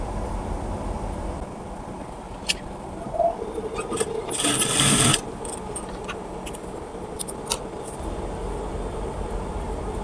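A sewing machine stitching elastic onto a baby girl's pants, heard as a steady low mechanical whir with a louder burst of rapid stitching in the middle, plus a few small clicks and taps nearby.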